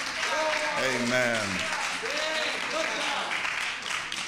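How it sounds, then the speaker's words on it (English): A church congregation claps in praise, with steady applause running under a voice that calls out over it. "Give the Lord a hand clap of praise."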